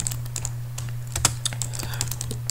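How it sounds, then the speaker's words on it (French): Rapid typing on a computer keyboard, with irregular clicking keystrokes close up and clear, no voices, over a steady low hum. "J'ai du mal avec mon clavier aujourd'hui."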